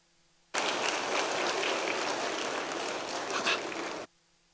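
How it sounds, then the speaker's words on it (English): Sustained applause from an audience at a business dinner, a dense even wash of clapping that starts abruptly, holds steady for about three and a half seconds and cuts off cleanly. "Please clap again."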